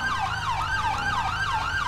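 An ambulance siren in GTA 5 wails continuously in a rapid rising-and-falling sweep, loud and close, over a low engine rumble.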